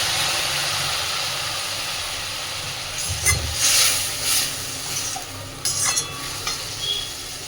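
Water splashed into a pan of frying potatoes and dried lote fish gives a steady close sizzling hiss, flaring louder in brief bursts as it hits the hot oil.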